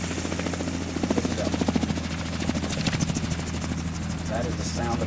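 Gyrocopter at a gyro fly-in event in Wauchula, Florida, its rotor chopping and engine droning loudly and steadily through a flight display pass, with an announcer talking over it.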